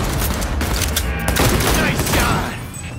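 Dense video-game gunfire in Cyberpunk 2077, a loud sustained barrage of rapid shots and bursts filling the whole stretch, tapering slightly at the end.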